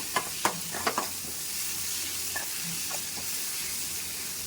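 Fenugreek leaves frying in a pan, a soft steady hiss with a few sharp clicks of a utensil at the start, close and fairly quiet.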